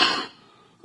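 A single sharp cough from someone with a cold, loud and close at the very start, then fading fast into near silence.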